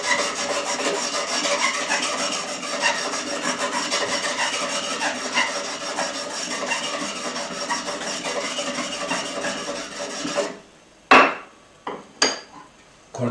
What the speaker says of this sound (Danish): Men nu skal jeg slibe på tværs af de grove riller, det vil sige, at jeg sliber på den måde.